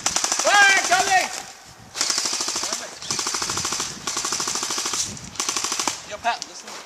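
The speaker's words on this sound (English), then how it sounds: "Fire coming from over there." Sustained bursts of rapid automatic airsoft gunfire during an outdoor airsoft game, loud and close, several long rattling volleys with short pauses between, with a shouting voice briefly heard early on.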